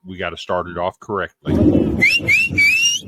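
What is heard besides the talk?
loud whistle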